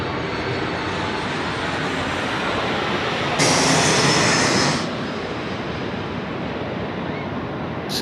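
Emirates jet taking off from runway 16 right at Sydney Airport, a loud, sustained broadband roar of engines and rushing air heard from nearby, swelling for a second or two and then easing back to a steady rumble.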